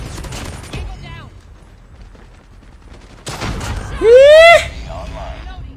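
A Razorback gun fires a short burst in Call of Duty Mobile, a loud crackling volley up front, followed after a quieter gap by sharp game sound effects including a rising whine, with speech-like sounds present.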